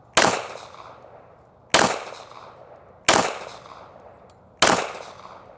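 Four loud pistol shots, apparently from a custom 2011 or similar handgun on a shooting range, fired singly at roughly one-and-a-half-second intervals, each a sharp crack with a short decaying tail.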